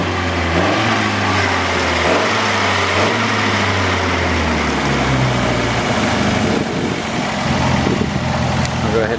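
A 1956 Austin-Healey 100M LeMans roadster engine idles close by, a loud steady rumble with a low throbbing pulse that smooths out toward the end.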